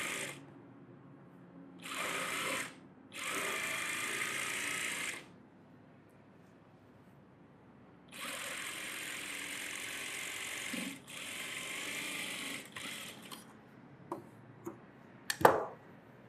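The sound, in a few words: sewing machine stitching a net model blouse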